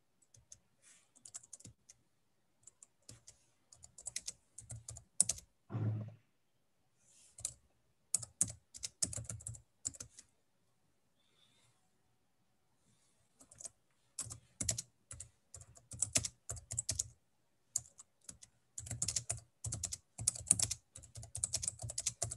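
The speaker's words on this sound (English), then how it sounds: "I hear a lot of clicking." Computer keyboard keys clatter in irregular bursts of quick clicks, separated by short silent pauses, close and fairly quiet, as several people type during an online session.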